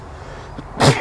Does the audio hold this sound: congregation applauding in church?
no